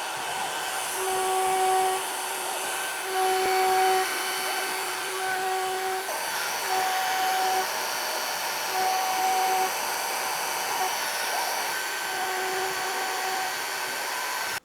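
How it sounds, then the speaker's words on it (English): A homemade CNC router carves its first piece, giving a continuous, fairly loud high whine with a steady hum underneath and a pitch that rises and falls in regular intervals as the cutter moves. "So this is my first carve with my CNC."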